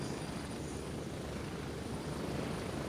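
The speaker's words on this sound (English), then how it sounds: "I like how they swing wide of the town so the helicopters don't take small arms fire." A helicopter in the video game Gray Zone Warfare flies on with a constant, dense rotor and engine roar that fills the whole stretch without letting up.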